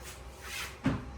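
A hotel room door in Osaka, Japan opens with a single soft thud and a brief creak in a quiet room, with no talking.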